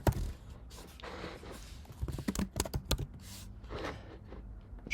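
Keys clatter on a computer keyboard in an irregular burst of close, crisp taps while text is typed out, with no voices.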